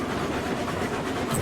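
A steam train rolls along in the game Railroads Online, giving off a steady low rumble with a rattling mechanical texture that stays close and constant through the brief stretch, with no talking.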